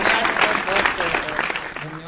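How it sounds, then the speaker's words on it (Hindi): Audience at a Hindi kavi sammelan poetry gathering on Prakram Diwas claps loudly for a poet, an uneven burst of applause with talk and voices mixed over it. "एक बार जोरदार तालियां के साथ"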